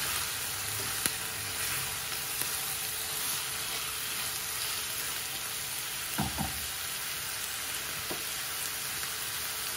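Onions, a generous amount of them, fry in a pan for a spinach and egg bhaji, with a steady broadband sizzle holding throughout and a few soft stirring knocks near the end, with no talking.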